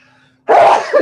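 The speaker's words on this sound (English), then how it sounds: "Excuse me, I'm sneezing." A single loud human sneeze bursts out abruptly after near-silence during a sports radio talk show, followed by a short breathy tail.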